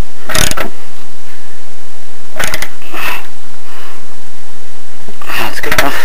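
A part is being tightened down on an MTD Yard Machines lawn mower with a ratcheting tool, giving a few short bursts of clicking and grinding against a loud steady background.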